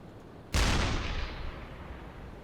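A single sharp, loud blast from a submarine deck gun in the naval game UBOAT, firing over choppy seas, followed by a long rumbling decay that fades slowly for nearly two seconds.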